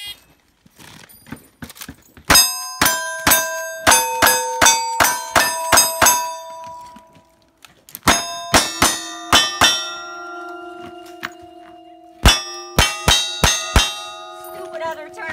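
Bullets strike steel shooting targets at a sportsman's club match, a rapid series of sharp ringing clangs in three bursts, each ping ringing out with a lingering metallic tone, loud and close.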